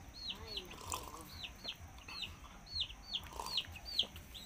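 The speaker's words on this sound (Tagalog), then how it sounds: "Malalaki na pala ang sisiw." Chicks cheeping in a steady run of high, repeated peeps with quieter hen clucks behind them, all faint and close on a farm.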